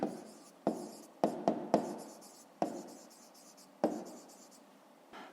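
Pen writing on paper while working a fifth-grade maths exercise, a series of sharp, close scratchy strokes in irregular bursts with short pauses between them and no voice.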